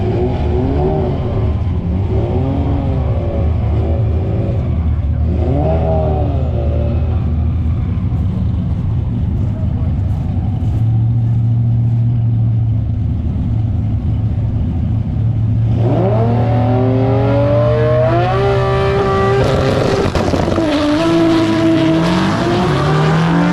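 A Toyota Supra drag car at Hot Rod Drag Week 2023 revs hard on its two-step launch limiter. The loud, close engine holds and rises in pitch repeatedly, with another engine rumbling underneath.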